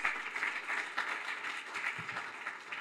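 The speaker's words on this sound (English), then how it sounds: "Let's give them a round of applause" An audience at a community accelerator event gives the judges a round of applause, heard as a faint, distant patter of many hands clapping steadily for a few seconds.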